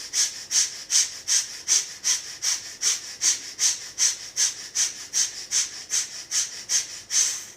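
Rhythmic, forceful breathing exercise with quick, even breaths repeating about twice per second, close and alone, each breath a sharp airy rush like rapid bellows.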